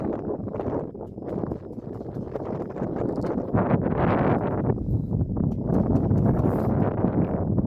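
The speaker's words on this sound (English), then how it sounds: "It's a bit windy" Strong wind buffets the microphone in a continuous roar that grows louder partway through, with no voices.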